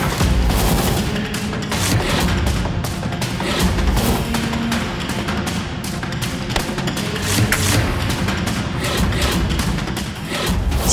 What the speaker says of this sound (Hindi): ये पटाखे भी क्या धमाका करेंगे